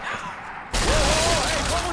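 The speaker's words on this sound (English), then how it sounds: "Who's shooting?" Gunfire in the video game Tomb Raider (2014) erupts abruptly partway through, a loud dense burst of shots that fills the rest of the moment after a quieter ambient start.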